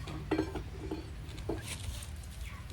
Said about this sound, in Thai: ก็จะตอกล็อกนะครับ